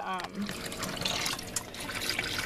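Water drains from a portable washer inside an RV in a steady trickling, splashing flow that sits close by under a speaking voice.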